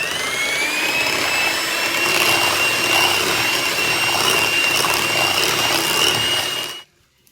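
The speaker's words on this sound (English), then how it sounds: "we're going to mix this in until it's well combined" Sugar and white table salt being blended into homemade fresh pumpkin pie filling with a steady, loud whirring motor drone that runs unbroken for nearly seven seconds, then cuts off abruptly.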